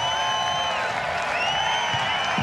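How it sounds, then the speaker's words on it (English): Golf crowd at the party hole of the Australian PGA Championship cheering and applauding after an ace, a steady roar of clapping and whistles with high whoops rising above it throughout. "Soak up the applause"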